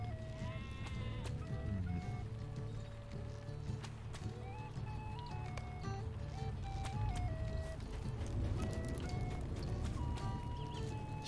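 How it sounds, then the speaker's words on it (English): Sheep in the Lord of the Rings Online video game, heard at a skirmish camp, bleat repeatedly in short wavering calls over steady background game music, all at a quiet level. "Sheep are even at the skirmish camp?"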